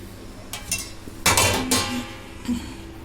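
A metal cake pan is turned over onto a plate, giving a few light clinks followed by one louder clattering knock of metal against the dish, close by with no talking.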